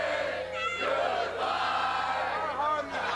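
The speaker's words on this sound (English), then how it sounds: "this capacity crowd serenading Marcus Kool with a song on his way out of the building" A capacity crowd at a New Zealand pro wrestling event in Invercargill sings loudly and in unison at a departing wrestler, a dense, echoing chorus that fills the hall continuously.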